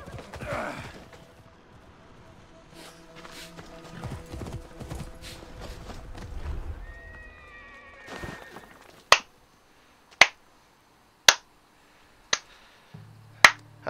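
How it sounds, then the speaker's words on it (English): Hooves of a horse clip-clop in Assassin's Creed Odyssey, first muffled under other game sounds and then as a few sharp, evenly spaced strikes on a hard surface, with a whinny in between. "I'm surprised the horse didn't stop."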